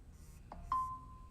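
A mobile phone goes off indoors with two short electronic chime tones, the second held as a steady ringing note that fades slowly, moderately loud and alone.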